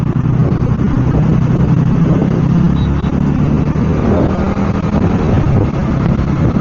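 A car being driven on a Maharashtra road, its steady engine and road rumble running loud and continuous, with wind buffeting the microphone and occasional voices underneath.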